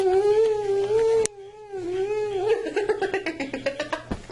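A puppy howls in long wavering cries, then yips and whimpers in rapid short bursts, close and loud with no talking.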